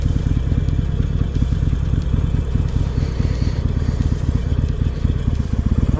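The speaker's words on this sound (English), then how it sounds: "getting comfortable with my motorcycle" Motorcycle engine running steadily with a dense low-pitched pulsing throb and some mechanical clatter, close and continuous throughout, with no talking.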